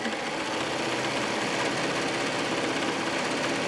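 A sewing machine stitches down the edge of a fabric book, giving off a steady, continuous mechanical whir that holds without pause.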